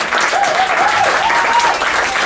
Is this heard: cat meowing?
no